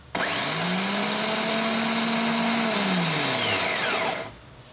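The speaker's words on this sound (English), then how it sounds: "That's a starter motor." A Ford starter motor powered straight from a battery through jumper cables spins up with a loud, steady electric whine that holds for about four seconds and then winds down and stops.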